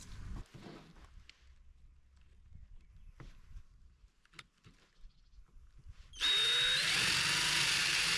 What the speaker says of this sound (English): sending the self-tapping screws into double skin metal is very difficult, especially as these aren't metal self-tapping screws